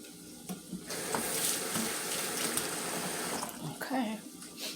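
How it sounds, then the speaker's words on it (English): A hand is rinsed under a running kitchen tap, making a steady splashing rush of water for about three seconds, close by. Brief handling noises come before and after, with some faint voice-like sound in the background. "Let me rinse off my hand."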